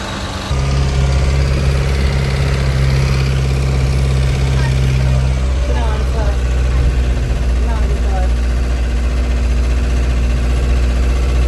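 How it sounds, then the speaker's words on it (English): A loud old bus engine idles close by with a steady, throbbing low rumble and a constant drone that never changes pace. "the sound of the engine was even more nerve-wracking than anything else"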